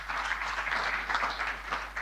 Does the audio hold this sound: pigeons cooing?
no